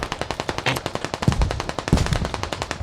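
Rapid automatic gunfire in the tactical shooter Squad, a fast, evenly spaced burst of close, loud shots running throughout with faint distant shots behind.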